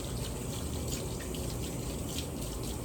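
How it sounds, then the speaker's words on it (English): Water from a running kitchen tap splashes steadily over hands being rinsed in the sink, a constant close rush throughout with no talking. "Let me rinse my hands off real quick."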